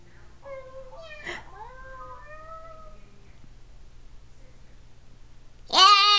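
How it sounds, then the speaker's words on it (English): Cats meow in long, drawn-out cries, one wavering call early on and a louder, close meow at the end, set against a quiet indoor hum with no talking. "You like the kitty cats?"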